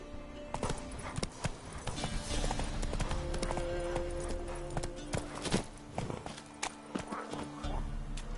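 Roach, the horse in The Witcher 3, drums hooves in a quick, steady clip-clop rhythm over game ambience and music, fairly close and continuous throughout.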